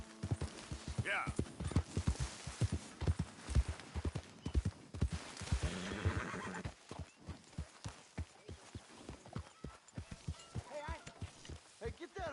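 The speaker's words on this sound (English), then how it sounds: "Hey, get that horse out of here." Horse hooves clip-clop steadily on the ground in the video game Red Dead Redemption 2, with a brief neigh early on, and voices talk over the hoofbeats.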